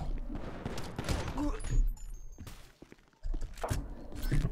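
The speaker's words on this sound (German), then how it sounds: "Oh, auf mich schießen sie." Rapid bursts of GTA 5 Online gunfire crackle and thump in clusters, with a brief lull before another volley; busy, loud, and close.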